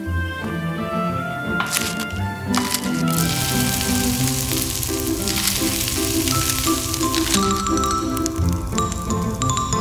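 Food sizzles loudly in a pan as King Percival cooks, a steady crackling fry with sharp pops and spits throughout, close and continuous under faint background music.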